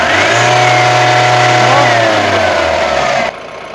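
A Mahindra Bolero pickup with a turbo diesel engine and a faulty turbocharger revs hard nearby, a loud sustained drone that drops off abruptly near the end.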